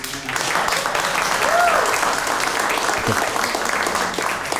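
An audience at a stand-up comedy show breaks into applause, a full wash of clapping that holds steady throughout and swells slightly midway.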